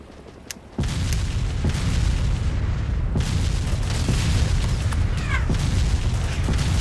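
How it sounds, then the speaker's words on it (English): Explosions and gunfire in the video game Arma 2: Operation Arrowhead, beginning with a sudden heavy boom that sets off a sustained loud rumbling roar with scattered sharp reports and pops. "Taking fire."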